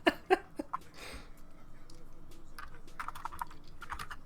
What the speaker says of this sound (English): my keyboard's very loud